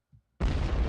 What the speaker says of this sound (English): I have a nice explosion for you.